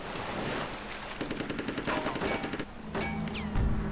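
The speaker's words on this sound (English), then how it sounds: "Now submarine shooting at them" Submarine firing guns in the video game Conker's Bad Fur Day, rapid rattling bursts of gunfire layered with game effects and a short whistling sound near the end.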